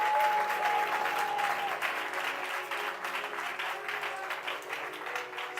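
Clapping from a church congregation at a worship service, a dense, steady applause that stays moderately loud throughout.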